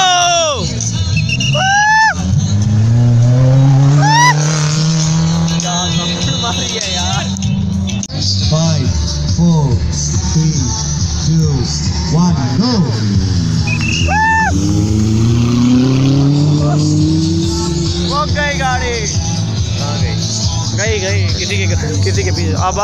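Monster trucks race through sand with engines revving and roaring, pitch sweeping up and down as they accelerate, loud and close, while an excited commentator and a crowd talk over the noise throughout.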